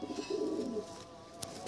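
Soft, low cooing comes from a Dhille pigeon kept for sale, one brief throaty coo heard fairly faint and close, followed by a short click.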